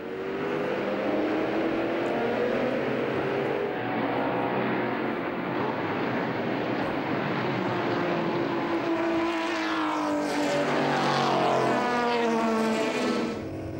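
Historic Ferrari and Bizzarini race cars roar past during a race at the Spa circuit. Their engines overlap in a loud drone that rises and falls as they accelerate and pass, with a brighter surge building toward the end.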